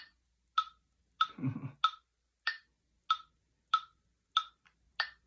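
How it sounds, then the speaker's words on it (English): Steady, crisp electronic metronome-app clicks at an even andante moderato tempo, nine or so evenly spaced ticks, with a brief low rumble near the start. "we can start our metronome"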